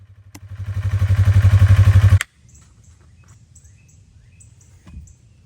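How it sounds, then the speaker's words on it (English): A 2024 Yamaha R3 motorcycle engine runs after an oil top-up, with a close, loud, rhythmic pulsing idle that rises briefly and then cuts off abruptly. Faint bird chirps and light clatter follow in the quiet. "standing the bike upright and starting it to allow the oil to work into the internals"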